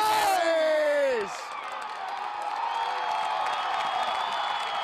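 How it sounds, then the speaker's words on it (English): A home crowd erupts in loud, sustained cheering after a try in a men's rugby national championship match between Life University and Saint Mary's, with a commentator's voice briefly heard over the roar at the start. "And the crowd goes absolutely crazy here for the St. Mary's Gales."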